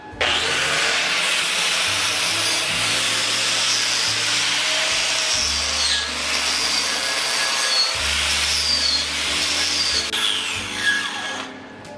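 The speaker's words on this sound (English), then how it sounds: "We're gonna use our wire wheel again." Wire wheel on a grinder brushing a groove weld in plate during welding prep, a loud continuous abrasive whir with shifting motor pitch, close and alone.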